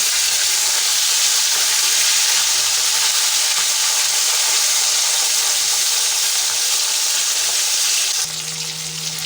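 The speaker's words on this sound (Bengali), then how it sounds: "কিন্তু আমি ভালো করে লাল লাল করে মুখে করে ভেজে নেব" Bhola fish frying in oil in a pan, with a loud, continuous hiss and crackle held close by. Near the end the sizzle drops and a low hum takes over. No voices.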